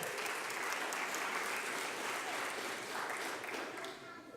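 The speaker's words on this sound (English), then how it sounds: "Give a round of applause for Willis Humphrey." Applause at a mayor's press conference for artist Willis Humphrey, a Restorative Justice Guild graduate: steady, fairly soft clapping from a modest crowd, holding evenly and tapering slightly at the end.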